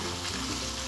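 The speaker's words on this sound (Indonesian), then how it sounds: "Kita aduk-aduk biar tercampur rata" Potato and chicken liver and gizzard simmering in coconut milk for sambal goreng, with a close, steady bubbling sizzle as the mixture is stirred through the pan. No talking.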